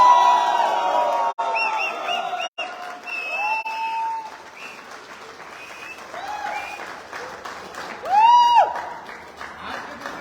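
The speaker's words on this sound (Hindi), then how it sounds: "एक जोरदार तालियां बजाएंगे हम ओपी साहब के लिए।" Loud audience applause and cheering at a luxury car achievers awards event, with a dense clapping crowd, scattered whoops and shrill whistles rising over the noise, and a big swell of cheering near the end.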